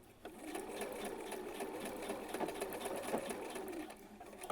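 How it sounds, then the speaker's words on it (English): Sewing machine running steadily as it back stitches the seam of a framed clutch purse, a continuous close whirring hum with slight speed changes throughout. "when I get to the end here, I'm going to go ahead and do a back stitch"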